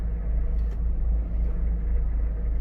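Mazda Miata idling with the clutch pedal pressed in, a steady low rumbling drone with a faint mechanical noise on top, close and continuous, no talking.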